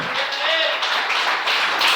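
A church congregation applauds in a dense, sustained wash of clapping that holds steady and fairly loud throughout.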